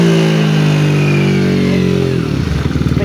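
A car engine revving with the radiator cap closed, running hot, a loud, close, sustained rev whose pitch slowly falls before dropping back toward a rough idle near the end.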